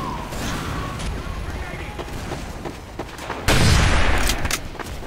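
Gunfire crackles in Team Fortress 2, a run of sharp shots in close succession ending in a louder, heavier burst, with voices talking over the action.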